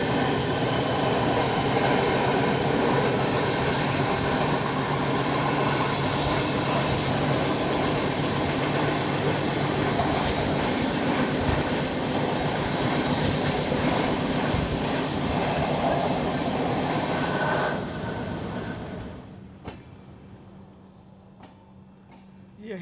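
Kashi Vishwanath Express on the Delhi to Banaras line via Moradabad, a steady loud rumble of wheels on rails with clatter for most of the ride, fading to a quieter hum with insect chirping near the end.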